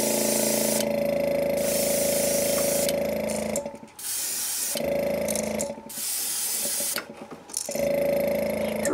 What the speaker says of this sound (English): we'll just go with an opaque black on this for the black and chartreuse here